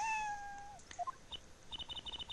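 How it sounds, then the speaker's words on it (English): A cat meows in the Apollo Justice: Ace Attorney video game, a short synthesized cry with a falling pitch, followed by a brief second cry and then a run of quick chirping game tones, all fairly faint. "It's a kitty!"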